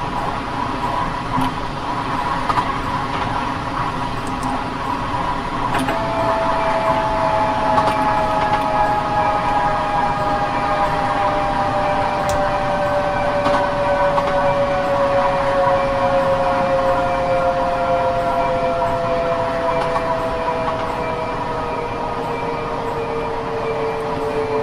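LIRR M7 electric train in the game Train Sim Classic running between Jamaica and Queens Village, steady loud rolling roar with a long sliding tonal whine as it slows.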